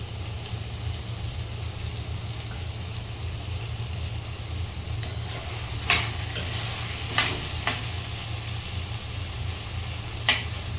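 Ivy gourd (gangaphal) vegetable steaming and softly sizzling in a covered pan, a steady low hiss and bubbling with a few sharp clinks and ticks of a utensil, continuous and close.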